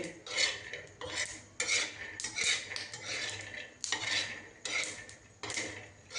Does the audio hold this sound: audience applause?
no